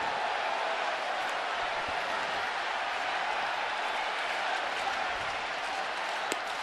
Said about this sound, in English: this sounds like a college crowd here